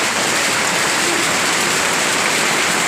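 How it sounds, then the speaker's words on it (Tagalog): Steady, dense rainfall pours down without pause, a loud broadband wash of heavy rain hitting surfaces up close. "Napakalakas ang ulan."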